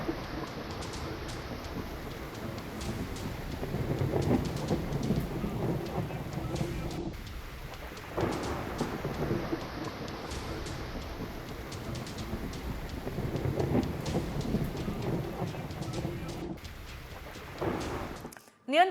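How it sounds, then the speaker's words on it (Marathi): Heavy rain in a thunderstorm with lightning strikes: a dense, steady roar of downpour that swells and eases in waves, with low rumbles underneath, close and loud throughout. "एवढ्या मोठ्या प्रमाणावर पाऊस बरसलेला आहे आणि विजा कोसळत आहेत"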